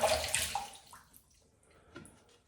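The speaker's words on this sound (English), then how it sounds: "I'm going to rinse off" Water splashing as a face is rinsed off after a shave with a Bic single blade disposable razor, a close burst of running and splashing that fades to a few soft drips.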